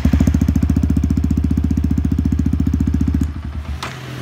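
A Yamaha WR 155 supermoto motorcycle engine idles close up with a rapid, even, loud single-cylinder thump, then cuts off near the end.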